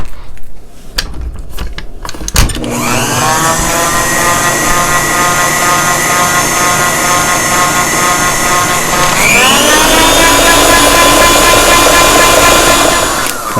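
A kitchen stand mixer runs steadily, blending a duchess potato mixture, a loud continuous motor whir after a brief start, stepping up in speed partway through and holding to the end without talk.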